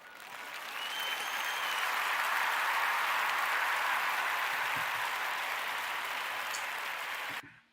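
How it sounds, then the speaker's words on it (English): Group hand clapping swelling in over the first second, holding as a full, steady applause for several seconds, then stopping abruptly. "let's give a hand clap."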